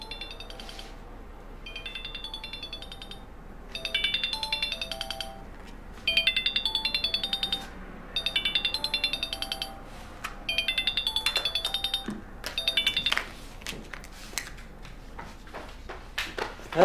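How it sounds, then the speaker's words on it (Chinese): A mobile phone ringtone plays in repeated melodic bursts with short pauses between them, fairly clear indoors, followed by a few clinks and rustling toward the end. "听着像我电话响啊！"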